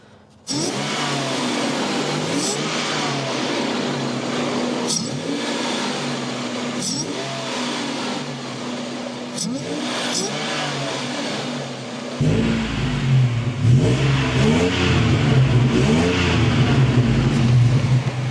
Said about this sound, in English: There's definitely a little bit more kind of a Supercharger whine, which is nice.